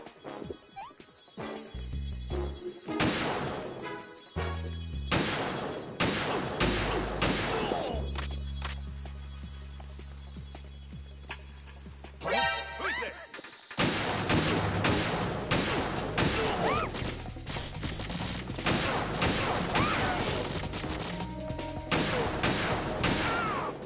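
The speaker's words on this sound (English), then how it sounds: "Las bombas ahí." Bombs exploding in Metal Gear Solid 2, heavy booming blasts and crashes scattered across the stretch, with a low droning lull in the middle and dense loud impacts later.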